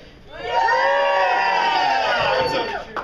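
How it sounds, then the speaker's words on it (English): An audience cheers on cue, a burst of mixed shouts, whoops and high-pitched yells that swells quickly, holds loud and close for a couple of seconds, then starts to fade. "We just need to practice some cheers."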